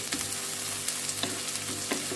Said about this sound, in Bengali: পেঁয়াজগুলি আমার ভাজা ভাজা হয়ে আসছে